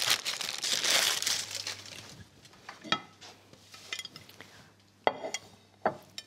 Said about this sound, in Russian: Аккуратно снимаю бумагу.